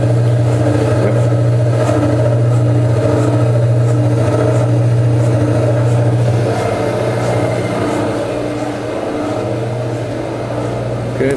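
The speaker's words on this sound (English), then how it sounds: "Can we turn the agitator on? I want to see how that, demonstrate how that operates." An industrial agitator drum turns at about 180 RPM, giving a steady, loud, low mechanical drone that holds constant from start to finish with no break.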